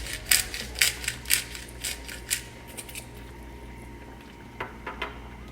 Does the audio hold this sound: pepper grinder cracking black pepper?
yes